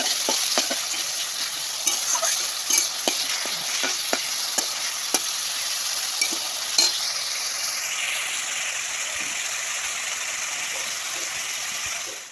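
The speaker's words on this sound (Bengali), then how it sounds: "গাজরগুলো আগে ভেজে নিই" Carrots fry in a pan with a steady, close sizzle and hiss. Light scraping and clicks of stirring fall every second or so over the bubbling, with no talk.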